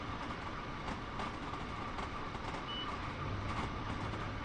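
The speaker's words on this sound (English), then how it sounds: "The crossing of them tracks is just so real." Steady rolling rumble of train wheels on rails in the video game Train Sim World 2, with repeated clicking thumps over track joints, continuous and close, without talk.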